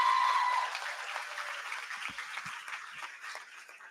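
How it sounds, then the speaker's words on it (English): A school audience applauds at a senior awards day in Dundalk, a steady wash of many hands clapping that starts loud and gradually thins and softens over a few seconds, with a few low thumps near the end. "Can you give them a round of applause, please?"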